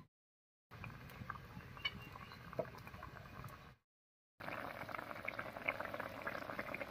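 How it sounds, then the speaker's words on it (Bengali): Curry for a vegetarian green jackfruit dish bubbles at a boil, a soft close patter of popping bubbles, with two brief silent gaps between stretches. "বলক উঠে গেছে"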